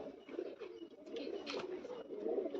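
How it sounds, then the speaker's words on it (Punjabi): A pair of red-breasted pigeons coo softly and repeatedly, low murmuring calls heard close but faint, with no talk. "ਆ ਜੋੜੀ ਖੱਟੀਆਂ ਦਾ ਲਾਲ ਸੀਨਾ ਕਬੂਤਰ ਆ ਚਿੱਟੀਆਂ ਦੀ ਲਾਲ ਸੀਨੀ ਕਬੂਤਰੀ ਆ"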